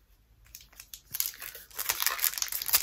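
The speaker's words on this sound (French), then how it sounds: "Là, on vient de déballer un bon petit paquet de cartes." A Pokémon trading card booster pack is torn open and unwrapped, its foil crinkling and rustling close by, starting with light crackles and building to a dense, continuous crinkle.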